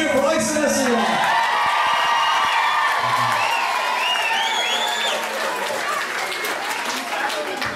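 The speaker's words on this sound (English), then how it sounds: "A big cheer for Isa Lessing." A rugby club crowd at Tullow RFC cheers and claps for a rugby player, a sustained wash of applause with whoops and shouts rising over it, loud and steady throughout, with voices calling out early on.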